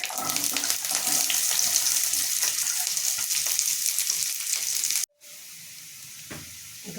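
Shallots sautéing in a pan for a ridge gourd curry give a loud, dense sizzle for about five seconds, then cut to a quieter, softer frying hiss.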